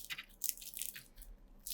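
Crunchy Turkish simit bread, crisp outside and soft inside, bitten several times, close and crisp, with sharp crackling bursts between bites.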